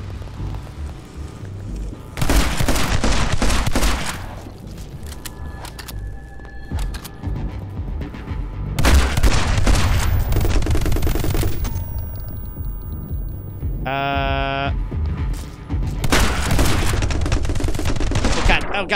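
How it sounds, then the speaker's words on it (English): Shotgun gunfire in the video game My Friend Pedro rings out in loud, repeated bursts separated by short pauses, with game sound effects in between. "Switch to my shotty."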